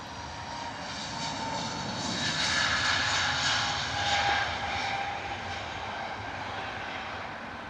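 A TAP Airways airliner roars away on departure from London Heathrow bound for Lisbon, a steady, fairly distant jet rumble that swells slightly and holds, with no talk over it.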